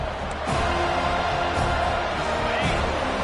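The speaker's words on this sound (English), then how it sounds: "Here comes this home crowd as the defense tries to get off the field on 3rd down." A home crowd at a college football game roars in a steady, loud wash of cheering as the defense faces third down.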